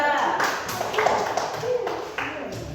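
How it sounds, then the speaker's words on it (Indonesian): Applause from a fifth-grade classroom, brisk, scattered clapping that carries on steadily for a few seconds, with a voice briefly heard. "Beri tepuk tangan untuk kelompok 3"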